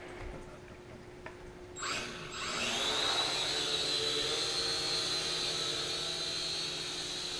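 A Syma X5C-1 quadcopter drone spins up after a short mechanical rattle, then settles into a steady, fairly loud, high-pitched motor whine that holds for several seconds with no speech.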